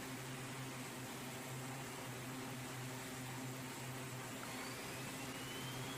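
Aircraft engine number one spooling up in the Tower Unite video game, a steady droning hum with a broad hiss and low tonal whine that holds evenly throughout, fairly faint and with no talking.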